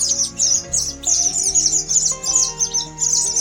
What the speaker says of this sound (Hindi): भूख से व्याकुल चूजे जोर जोर से आवाज कर रहे थे